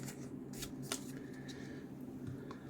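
Cardboard protective insert handled while unboxing silver bullion coins, giving soft, close rustling and scraping with a few sharper crinkles, quiet and steady throughout with no talking.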